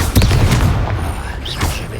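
A Repulso spell goes off in the Hogwarts Legacy video game as a single dull, heavy boom with a brief rumbling tail. It is loud and sits alone in a short burst.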